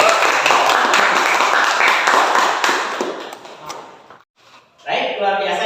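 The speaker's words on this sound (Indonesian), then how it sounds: "Kasih tepuk tangan dong." Audience applause fills a training session on preparing and washing the deceased, a dense steady clatter of many hands that thins out after about four seconds, then gives way to a brief lull and a fresh burst of noise.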